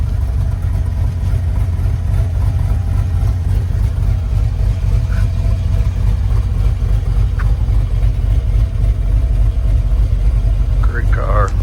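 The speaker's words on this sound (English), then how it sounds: "Extremely strong running car." A 1970 Camaro with an LS V8 runs at idle, a steady deep rumble throughout, close and loud, with someone speaking over it.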